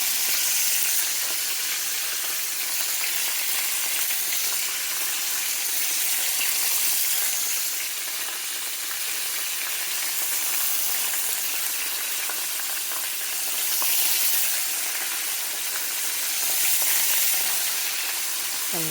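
Mushrooms deep frying in hot oil at medium heat, a steady loud hiss and crackle of bubbling oil that swells slightly now and then, with no voices.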